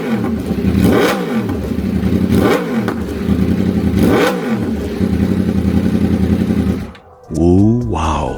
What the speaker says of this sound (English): Let's hear how this beast sounds with a full SC exhaust system.